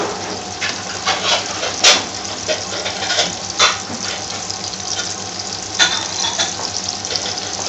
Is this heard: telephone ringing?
no